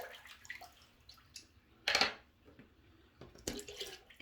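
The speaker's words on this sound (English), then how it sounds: "Empty out my cup." Water poured out of a small shaving soak cup that held natural-hair brushes, a short splashy gush with a few drips around it, close and fairly quiet.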